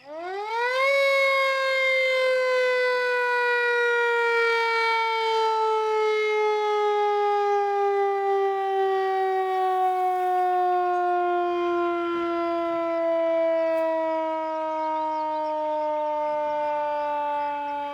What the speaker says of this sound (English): I can't hear you because of the siren